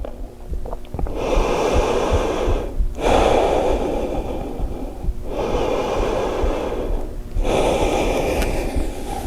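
Slow, deep yoga breaths, alone and close, in four long airy strokes separated by brief pauses.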